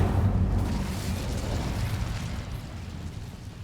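A fire spell cast in Hogwarts Legacy, a loud rumbling, explosive burst at the very start that sustains as a dense roar and slowly fades over a few seconds.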